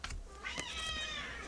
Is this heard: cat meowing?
yes